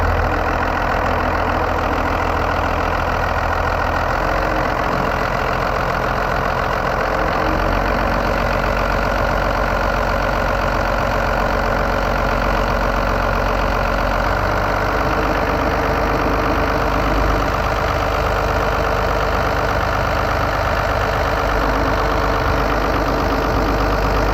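A Cummins-swapped Ford engine idles steadily at about 1,000 rpm, a close, loud, continuous rumble with a low drone that holds even throughout, with no one talking.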